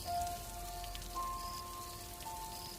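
Steady rain patters and hisses on a surface, a continuous soft wash heard from indoors with faint tonal hums in the background.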